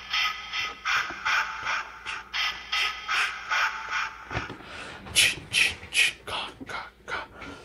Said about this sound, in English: That is the sound of the Mezco Megascale Friday the 13th,